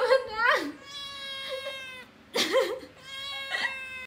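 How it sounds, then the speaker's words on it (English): A cat stuck between two curtains lets out several drawn-out, strained meows in two bursts with a short pause between them, close and fairly loud, with no talk. "This person walked into their room and found their cat stuck between two curtains."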